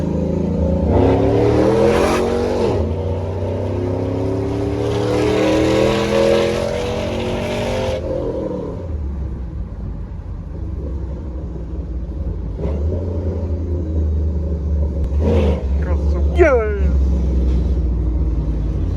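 A 6.0 SS clone truck fitted with a ProCharger revs loudly and then drives off, its engine roaring steadily with a pulsing rumble. The noise drops to a lower drone and a whine rises briefly near the end.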